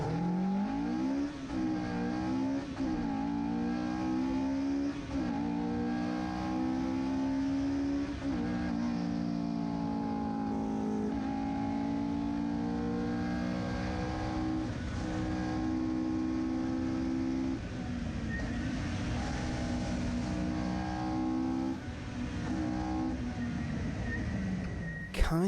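Onboard sound from the front of a Ford Puma rally car racing at Cadwell Park in Lincolnshire: a loud, continuous engine note rising and falling through gear changes, dominating the whole stretch with no pauses.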